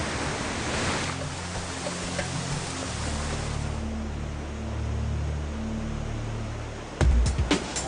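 Waterfall pouring down at Angkor, Cambodia, a heavy, continuous broadband roar of falling water with low rumbling underneath, steady throughout, with a brief burst of clatter near the end.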